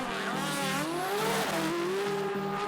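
Omega Nissan GT-R drag car launching hard down the strip, a loud rising engine howl with steady harmonic climb and tire noise, continuous and close with no talking.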